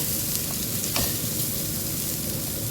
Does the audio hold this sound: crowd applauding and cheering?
no